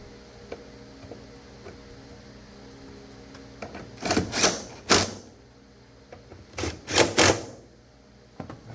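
Bolts being driven back into the fuse box of a 2003-2009 Toyota Prius during front strut replacement, heard as a few short bursts of metallic ratcheting clicks close by, with quiet gaps and faint ticks between them.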